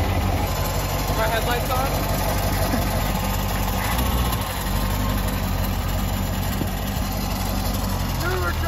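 A totaled C7 Corvette's engine idles with a steady low rumble that stays even throughout, as a person talks over it from inside the car.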